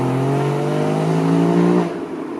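A 2016 Porsche Cayman GTS with a 340 hp engine and manual gearbox revs loud and close, holding a steady high note before dropping off sharply as a shift is made.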